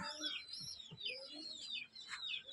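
A pet pigeon calls softly at close range, giving faint, short chirping and cooing notes in a quiet setting.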